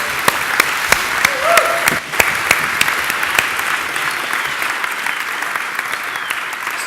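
Audience at a PyCon UK 2018 lightning talks session applauds a speaker with steady, dense clapping from a moderately sized indoor crowd, fairly loud and continuous throughout.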